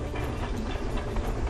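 The 2141 steam locomotive train of the Kamloops Heritage Railway rolling on rails, a dense continuous rumble and rattle heard from on board, loud and close, with no voices.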